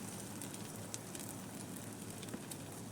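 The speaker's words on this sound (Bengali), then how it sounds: "তো এইভাবে ডিমের এই সাইডটা আমরা ভেজে নেব" An egg fries in a pan after being flipped, a soft, steady sizzle and crackle with faint scattered pops, heard alone at low volume.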